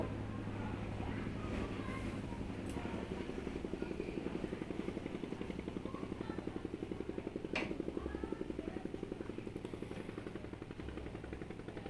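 A motorcycle engine runs steadily nearby as the rider sets off, a low, rhythmic pulsing thrum that holds at a fairly even level, with faint clatter over it.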